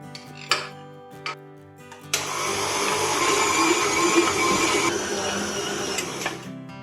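A stand mixer kneads Easter colomba dough enriched with butter, starting with a few soft knocks before settling into a steady, loud whirring motor drone that runs for several seconds and then stops.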